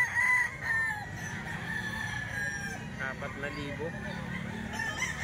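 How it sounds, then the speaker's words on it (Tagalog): Gamefowl roosters crowing at a farm grotto, a loud near crow at the start followed by further crows and clucks from several birds, with someone talking over them. "Mga quality manok, halos yung mga"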